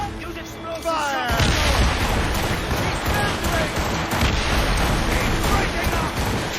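Naval battle cannons boom and explosions roll almost without pause in Assassin's Creed Rogue, a loud, dense barrage of heavy blasts and crackling fire that starts after a brief, quieter lead-in.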